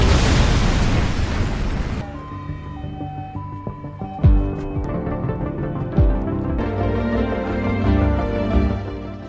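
A car bomb detonates in a film scene with a loud, broad blast that cuts off abruptly into ringing tonal music, followed by a few sharper impacts and booms over the score.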